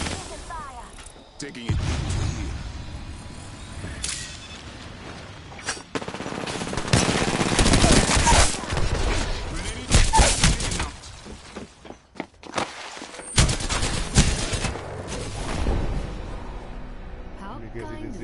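Apex Legends gunfire comes in repeated loud automatic bursts separated by brief pauses, with footsteps, impacts and game effects in between. A voice speaks briefly.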